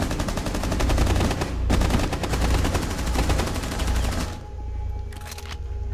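Rapid automatic gunfire in the video game Rainbow Six Siege, dense bursts of shots rattling for several seconds before cutting off, loud and close, followed by a few sparse shots fading out.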